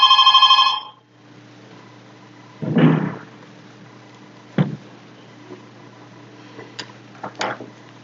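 Telephone bell ringing in a room, a bright harmonic ring in the opening second, followed by a few knocks and clicks of desk handling.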